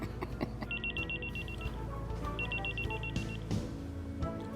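A mobile phone rings indoors in a repeating electronic ringtone pattern with short bursts, set over a busy background of music and household noise.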